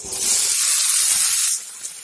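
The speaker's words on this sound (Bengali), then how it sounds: "কচুটা দিয়ে ভালো করে কচুটা ভেজে নেব" Taro added to hot oil with fried onion, a loud sudden hissing sizzle that holds steady for about a second and a half, then drops away to a low simmer.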